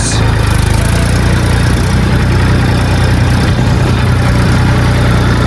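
Tractors drive past one after another on a Marathi village road, their loud, close diesel engines rumbling steadily throughout with no break.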